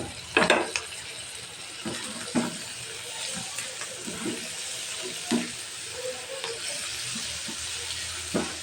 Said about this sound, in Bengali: এখন আমি চিকেনটা দিয়ে সেটাকে কষিয়ে নিচ্ছি।